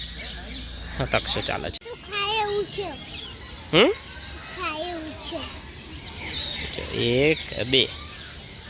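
Birds squawking and calling in Kamati Baug park, several sharp chirps and squawks scattered over a few seconds, some near and some farther off, with people and children talking in the background.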